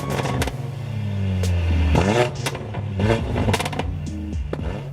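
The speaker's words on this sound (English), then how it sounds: "it has a custom Y-stick straight pipe exhaust, which gives it all the pops and bangs in all the right places" Mercedes A45 AMG (2014) with a custom Y-piece straight pipe exhaust, revving hard with sharp crackling pops and bangs at each lift-off, loud and close, engine note rising and falling over several seconds.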